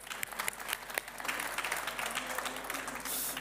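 An audience applauds at the ITAINNOV 2022 award ceremony. Dense, steady clapping from a crowd runs throughout, with individual claps standing out.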